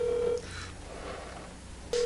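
A telephone ringback tone on a line left unanswered while calling a member during a radio news briefing: a steady tone at the start, a quiet line in between, then the tone again at the end.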